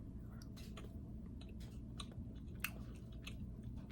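Chewing on a soft homemade cookie made with applesauce and chocolate chips, close up: steady, quiet mouth sounds with faint bites and smacks over a low background hum, no talking.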